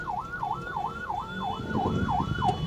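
An ambulance siren wails in a steady, rapidly repeating up-down yelp, close and loud over low traffic rumble, with no talking.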